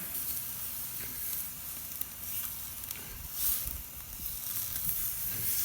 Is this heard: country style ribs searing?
yes